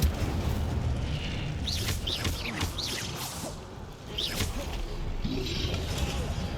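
Hogwarts Legacy spellcasting, with an Incendio fire spell bursting into a booming, crackling blast amid ongoing battle rumble, along with several quick whooshing, rising sweeps and a deep thump partway through.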